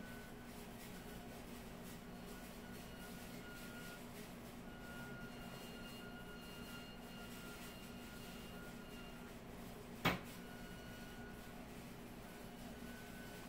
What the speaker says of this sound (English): I don't know if you guys can hear my Turner in the background singing you the song of its people.